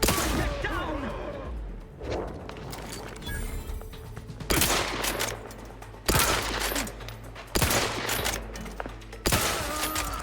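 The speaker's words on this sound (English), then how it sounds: "Me likey lever action rifle." Repeated rifle gunfire in The Outer Worlds 2, a lever action weapon firing a series of loud, sharp shots at spaced intervals over a steady rumble of game sound, with some talk mixed in.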